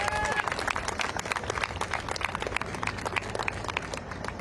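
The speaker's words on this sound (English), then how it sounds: "So a round of applause for this speaker." A crowd of college students at a Washington, D.C. street protest applauds a student speaker outdoors, bright crisp clapping that stays lively throughout with scattered voices and cheers underneath.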